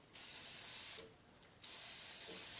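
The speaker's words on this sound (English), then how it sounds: "if I spray the Minwax clear satin when that dries, it'll look very similar to hot waxing" Minwax clear satin finish sprayed from an aerosol can onto a hot metal shop specimen: two steady hissing bursts, each about a second long, with a short pause between them, close and fairly quiet.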